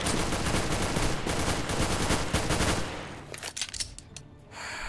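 Rapid gunfire from a Counter-Strike: Global Offensive match on the Mirage map, with dense, loud bursts for about three seconds that then break into scattered single shots and quieter clatter.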